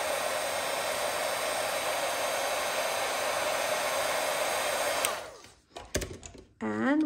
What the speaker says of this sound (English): And emboss that with white embossing powder.